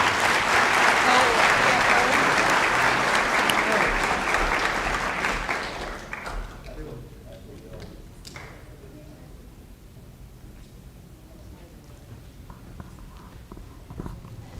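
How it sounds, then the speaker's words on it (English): An audience at a Lawrence County school event gives a loud round of applause that fades after about six seconds, leaving quieter room noise with scattered thumps and faint voices. "Let's give Carly a round of applause."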